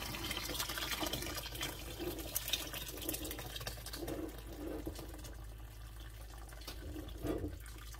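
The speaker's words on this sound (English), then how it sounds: "first I'm going to strain it through this bigger colander. I'm doing this in the sink" Beef bone broth poured and strained through a large colander in a kitchen sink, giving a faint steady rush of running liquid with a few soft splashy swells and no talk.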